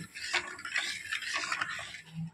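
Sugar being stirred into powdered milk mixed with water, heard as a spoon scraping and swirling against the pot in a close, steady, unbroken scrape, with no voices.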